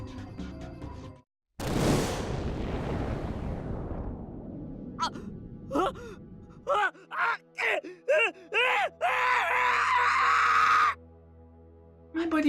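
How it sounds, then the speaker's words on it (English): A long, loud scream rises and then trails off in the video game Chaos;Child, followed by a string of short, pained gasps and cries over a low, steady background tone. "A scream burst from my throat."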